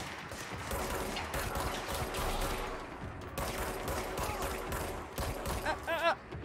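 Dense automatic gunfire rattles almost continuously in the Control video game, a fusillade of rapid shots with short gaps, loud and close, with a voice briefly heard near the end.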